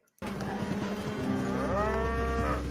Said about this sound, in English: Just a bunch of mooing.